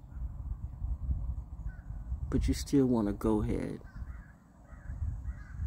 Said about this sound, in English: The crows are like, cheering me on or talking.